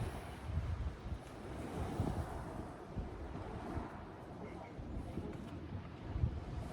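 Wind gusts across a seashore where fishing rods are set up for conger, a continuous low rumbling rush of blustery air and microphone buffeting with surf underneath.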